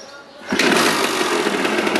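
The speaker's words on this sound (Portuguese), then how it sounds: "Uma pedaladinha e a moto está funcionando. Está na marcha lenta." A 1984 Yamaha DT 180 two-stroke motorcycle kick-started into life, a short quiet lead-in then the engine catching and settling into a loud, steady, buzzy idle up close.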